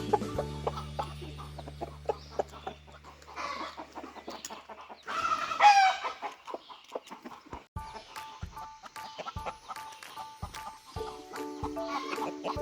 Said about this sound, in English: seeing these little baby chicks in with all the other chickens